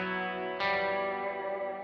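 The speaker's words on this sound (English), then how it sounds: "And then I use it for the big cave reverb" Electric guitar played through a huge cave-like reverb effect: one sustained chord rings out, a fresh attack swells in just past half a second, then both decay slowly into a long, washy tail with no talking.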